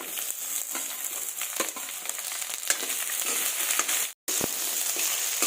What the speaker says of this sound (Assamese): মই আলুখিনি অলপ ভাজি ল'লোঁ